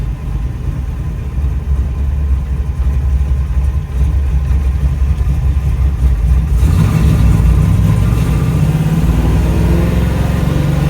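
A 572 big block V8 in a Camaro idles with a deep, steady rumble, loud and close, its tone thickening slightly partway through.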